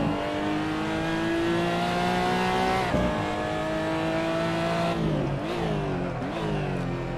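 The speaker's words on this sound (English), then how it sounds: "Oh, okay, we are drifting. Which also means I'm scrubbing away all that speed." A race car in a qualifying session revs hard and loud up close, with engine pitch climbing, dropping sharply, then surging again as the tires scrub and squeal through an oversteering slide.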